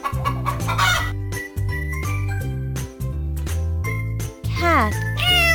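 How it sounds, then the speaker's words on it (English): A cartoon chicken clucks in short bursts over steady, bouncy background music in a children's animal and dinosaur game, with jingly chimes and a voice nearby. "chicken"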